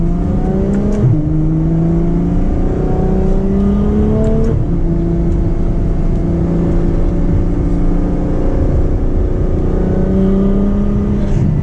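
A loud Ferrari F12 V12 sports car accelerates hard in manual mode, its engine pitch climbing through several gear shifts with a high, sustained roar close by.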